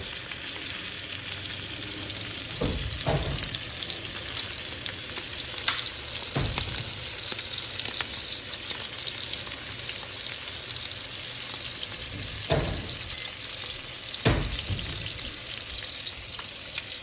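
Steaks searing in a pan with oil and butter give a steady, dense sizzle that holds throughout, with a few sharper clicks and spatters breaking through now and then.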